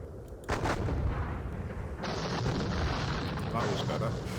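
Napoleonic-era artillery in a John Tiller wargame fires as a continuous rumble of booms and crackling volleys that thickens partway through, mid-distance and steady, while someone talks quietly over it.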